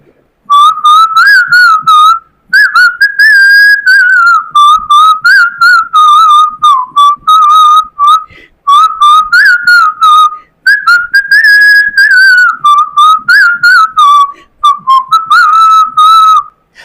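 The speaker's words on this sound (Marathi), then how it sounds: "मी शिट्टी तुंगानं म्हणून दाखवणार ते तुम्ही ओळखायचं" A person whistles a song tune loudly and close up, a clear melodic line of short and held notes with brief pauses between phrases for about seventeen seconds.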